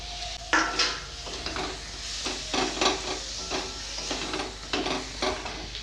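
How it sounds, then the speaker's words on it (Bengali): Cumin powder and chopped tomato are stirred and sautéed in a pan for chicken tadka, with a steady sizzle under repeated scraping strokes of a utensil, close and continuous. "জিরা গুঁড়ো ভালো করে কষাবো টমেটো কুচি"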